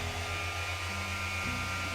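A machine polisher drones on the roof of a Volkswagen Golf R, a steady close motor hum whose pitch steps down briefly partway through, with no voices.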